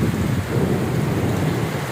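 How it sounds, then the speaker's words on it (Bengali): A heavy thunderstorm brings intense rain, a dense, loud, continuous roar of rain pouring down with deep rumbling underneath and no voices. "তার থেকেও বেশি ঝড় বৃষ্টি শুরু হয়েছে প্রবল বেগে"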